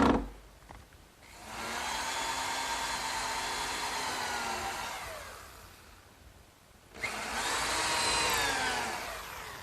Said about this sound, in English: Now to attach the backsplash to the counter area, I'm putting 4 screws in through the back.